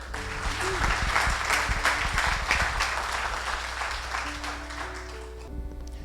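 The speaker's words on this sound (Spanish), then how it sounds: "otro aplauso al Señor." A church congregation applauding, dense clapping that swells and then gradually thins toward the end, with a sustained organ or keyboard tone beneath it.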